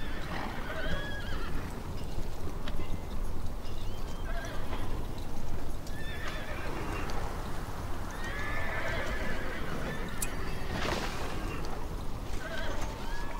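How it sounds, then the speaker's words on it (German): Horses whinny and neigh repeatedly over a constant rumble of hoofbeats, with busy, layered sound effects and no speech, from the strategy video game The Battle for Middle-earth. "dann holen wir mal Gandalf wieder auf sein Pferd"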